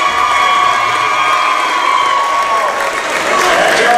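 Good-sized home crowd in Wildcat Gym at Sulphur Springs, Texas, cheering and applauding during Sulphur Springs Wildcat boys basketball introductions against Paris, a steady roar with scattered whoops and children's shouts.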